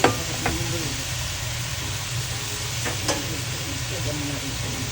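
Shrimp drop into a cooking pot of vegetables for shrimp chowder, setting off a sharp crackle of sizzling that settles into a steady frying hiss, with light scrapes of stirring.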